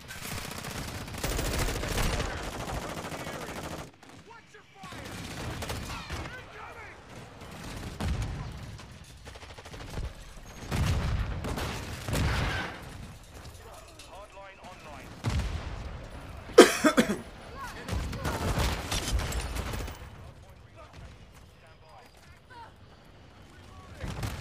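Gunfire from the video game Call of Duty Modern Warfare 2 on the Shipment map: bursts of shots and short volleys come and go across the clip, with players talking over much of it.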